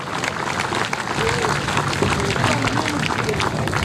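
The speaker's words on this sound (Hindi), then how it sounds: "तमाशाइयों से गुजारिश है कि तालियां बजाने में कंजूसी ना करें।" Audience at a 2018 NTCA T-10 League cricket final clapping in a steady, dense wash that runs throughout, mixed with crowd babble and voices.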